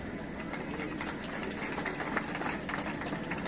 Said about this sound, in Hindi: जोरदार तालियां सभी लोग बजाएं